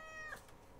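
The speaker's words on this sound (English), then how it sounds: "What you want, kitty?" A cat meows once in a short, clear, rising call close by, with the room otherwise quiet around it.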